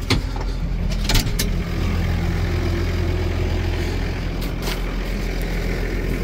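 Tractor engine running steadily with its rotary spader's power take-off stopped, a low constant diesel rumble with a couple of short knocks and clanks near the start.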